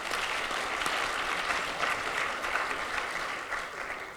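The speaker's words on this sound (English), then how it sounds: "So a round of applause for our sponsors," Audience at a sustainable development summit in New Zealand giving a round of applause for the event's sponsors, dense and even clapping filling the room without a break.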